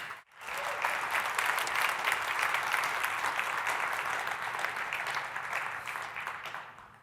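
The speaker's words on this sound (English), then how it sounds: "Let's give him a big round of applause." Audience applause at a PyCon 2014 conference talk, a steady sustained clapping from a full room lasting about seven seconds before tapering off, with no voices over it.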